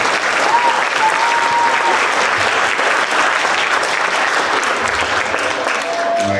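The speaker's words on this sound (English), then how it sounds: "can clap, yeah, please clap" Audience clapping at a Veterans Day ceremony, loud, dense and sustained applause from a large gathered crowd with a faint murmur beneath, steady for the whole stretch.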